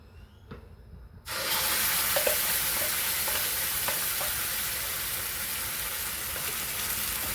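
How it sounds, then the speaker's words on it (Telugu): Masala spices for an egg green masala curry hit a hot pan and burst into a loud, steady sizzle, with light stirring scrapes and clinks scattered over the continuous frying. "ఇప్పుడు ఈ మసాలా ఇందులోకి వేసుకోవాలి."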